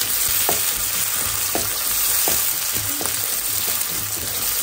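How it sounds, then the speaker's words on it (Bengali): Garlic, onion and green chili sizzle loudly with cumin in hot oil, a dense continuous crackle close by, punctuated by sharp spoon-against-pan stirring knocks; no voices. "রসুন পেঁয়াজ আর কাঁচামরিচ দেওয়ার পরে আমি হালকা একটু ভাজবো"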